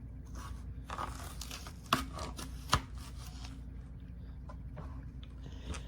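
A knife cuts salad vegetables in half on a board, producing soft repeated slicing and tapping with a couple of sharper knocks, close and moderate in level, no voices.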